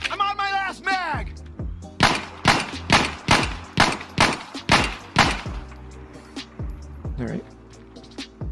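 Rapid pistol shots from an M9 in the video game Insurgency: Sandstorm, around nine sharp evenly spaced reports in a steady rhythm, with a voice speaking briefly before them.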